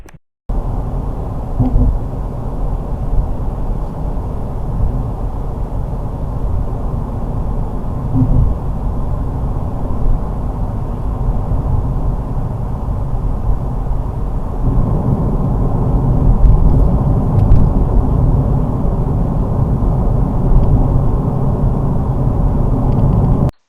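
A 2024 Nissan Z drives along the road, heard from inside the cabin as a steady low engine and road rumble that grows slightly heavier partway through.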